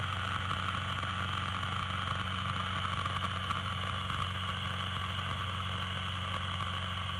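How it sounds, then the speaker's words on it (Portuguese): Engine of an Anequim light aircraft idling, a smooth, steady hum with even low tones and a faint hiss, continuous throughout with no voices. "Esse avião, quando você reduz o motor, que entra em marcha lenta, ele até assusta, porque ele é tão liso, tão limpo, que não tem barulho"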